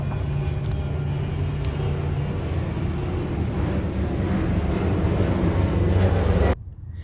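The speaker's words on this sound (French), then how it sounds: "J'ai mis sur pause le temps que l'avion passe." Airplane passing overhead as a broad, steady roaring rumble that builds slightly before cutting off abruptly near the end, heard alone without talk.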